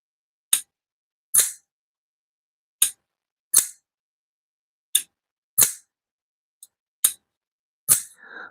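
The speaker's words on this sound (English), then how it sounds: "that is the sound of one amazing American knife that Caleb will be giving away" An American-made knife, a grail-tier blade, snapped open and shut close to a microphone: a string of nine sharp, crisp clicks at irregular intervals, each alone with silence in between.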